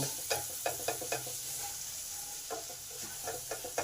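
Ground turmeric, chilli, coriander and cumin cooking in tomato in a pan for an eggplant curry, a steady soft sizzle broken by repeated scraping stirs of a spatula, close by.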